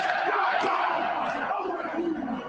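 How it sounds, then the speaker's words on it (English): A packed rugby stadium crowd in Wales roars at the end of the haka, a dense sustained cheer from many voices that fills the space and slowly eases. "Listen to the crowd. This is in Wales."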